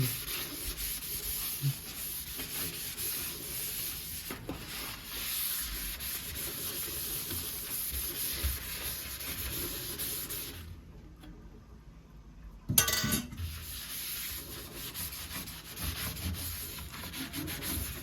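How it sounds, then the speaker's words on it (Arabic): Sponge loaded with cleaning paste scrubbing across a gas stove, a steady rasping rub that runs close and continuous, pausing briefly before resuming. "هاخد بصوا حته معجون اهي على الليفه وانشي بيها على البوتاجاز كله"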